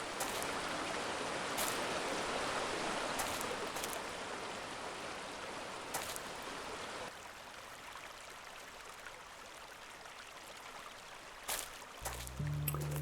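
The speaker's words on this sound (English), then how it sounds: "I happen to have 4 sound clips of different water intensities." Steady flowing water from a stream in a procedural mountain forest video game, a soft continuous rushing wash that thins out partway through, with a few faint clicks scattered across it.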